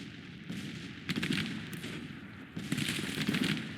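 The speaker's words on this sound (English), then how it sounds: "Our artillery's starting to do a little bit of damage." Cannon fire rolls across a Grand Tactician Civil War battlefield near Nashville, with two distinct bursts of booming artillery and crackling volleys rising over a steady low battle rumble, moderately distant.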